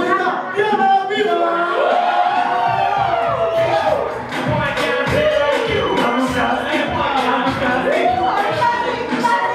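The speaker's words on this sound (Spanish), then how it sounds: "Por favor, sigan con un fuerte aplauso, rompiéndose las manos, la señorita Diana Viva." An improv comedy show audience breaks into loud applause mixed with cheers and whoops, dense clapping under raised voices that continues steadily for nearly ten seconds.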